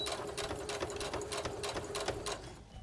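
A sewing machine stitching rapidly and then backstitching at the end of a seam on a fabric dog dress, a steady close whirring hum with quick regular needle clatter that stops abruptly near the end.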